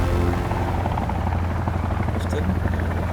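Helicopter in the Sons Of The Forest video game, a steady close rotor thump and engine drone lasting throughout, with people talking over it.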